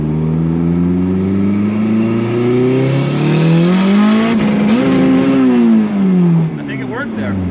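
A Toyota MR2 AW11 engine revs hard and climbs in pitch, dips briefly during a flat shift, then pulls up again, loud and close throughout as if heard from inside the car.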